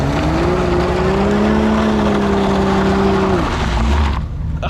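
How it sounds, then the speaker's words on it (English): A car does a burnout, a loud rising engine roar held over a harsh rushing hiss of spinning tires, close and continuous before cutting off near the end. "Do burnout."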